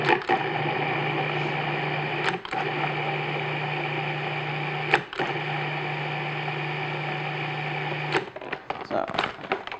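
A food processor pulses pie dough for a pumpkin pie in short motorized bursts, a steady whirring hum that stops briefly between pulses, up close, with a voice talking near the end.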